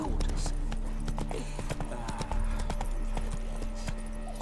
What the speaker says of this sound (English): My first time watching somebody riding horse.